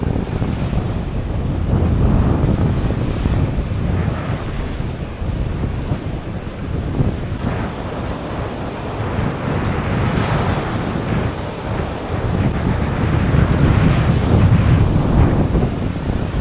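Baltic Sea waves wash onto a beach on the Hel Peninsula, a continuous loud surf roar buffeted by heavy wind noise with no voices.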